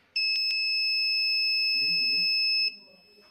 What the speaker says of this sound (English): it will send signals to turn on the buzzer